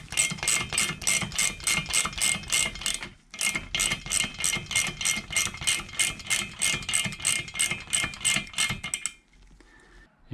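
Wrench cranking a valve spring compressor tool on a Ford modular V8 cylinder head (2V, 3V, 4V, 4.6 or 5.4), giving a fast, steady ratcheting click train that compresses a valve spring, with a brief pause midway before it stops near the end.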